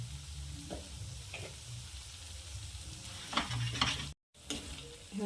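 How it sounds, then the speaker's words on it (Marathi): Spice masala with red chilli powder and asafoetida sizzles softly in a pan, a faint frying hiss broken by louder stirring scrapes near the end. "आपला मसाला छान पकलेला आहे"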